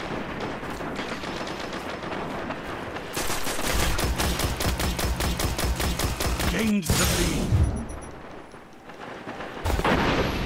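Rapid fast-firing automatic gunfire in a Destiny PvP Control match, dense repeated shots in long sustained bursts, loud and close, with a short pause and a whooshing effect before the firing resumes.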